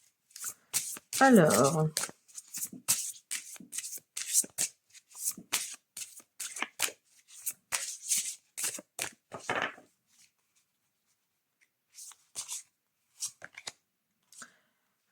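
Tarot cards riffled and shuffled by hand in quick bursts of soft flicking, with a French-speaking voice talking over and between the bursts before the shuffling trails off into short sporadic flicks.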